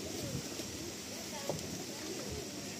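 A male Madrasi pigeon gives soft, low cooing calls, faint and somewhat distant against a quiet background hum.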